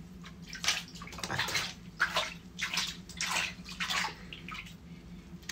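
Water splashes and sloshes in irregular bursts as a rescued parakeet is washed in a basin, close and moderately loud with gurgles between the splashes.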